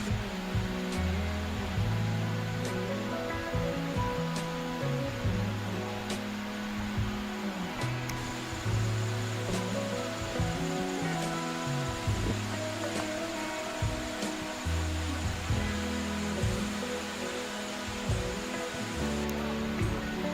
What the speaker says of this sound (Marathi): तोपर्यंत तुम्ही ह्या धबधब्याचा आनंद घ्या